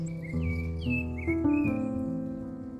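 Birds chirp and tweet in a small garden behind a cafe in Brasilia, Brazil, with short repeated high calls over a steady low background hum.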